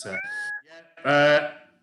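A cat gives a couple of close, loud meows, the first short and the second longer and drawn out, with a brief pause between them and no talking.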